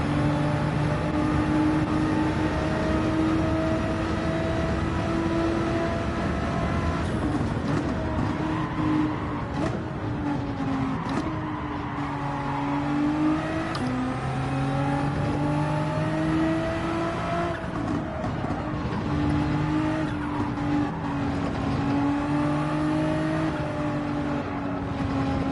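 Race car engine in a racing game at Suzuka, loud and continuous, holding a steady drone then rising and falling through several throttle changes and surges of acceleration across the whole stretch, with no voices.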